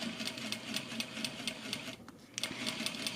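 A sewing machine stitches an exposed zipper into a garment, giving a quiet, steady rapid ticking hum of needle strokes that pauses briefly midway, then resumes.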